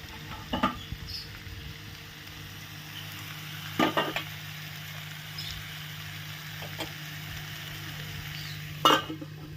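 Vegetables sautéing in a pan with a ground paste of cumin, mustard, poppy seed and chilli: a faint, steady sizzle runs throughout, broken by a few sharp utensil scrapes and knocks.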